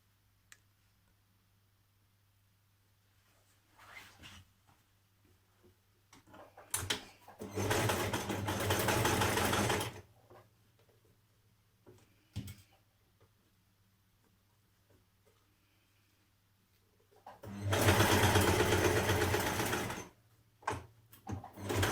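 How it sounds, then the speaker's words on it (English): A sewing machine stay stitches along the edge of dress fabric in two long, steady runs of fast, even stitching, with quiet gaps of handling and a low hum between them. "I'm going to stay stitch all the way along and follow that along to the edge there."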